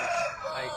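A rooster at a chicken market gives a short, fairly loud crow-like call over steady market noise.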